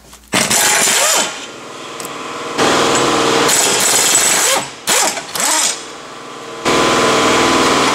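An impact-style power tool rattles off 18mm brake caliper bolts on a Nissan Titan, several loud sustained bursts separated by short pauses, close by and harsh.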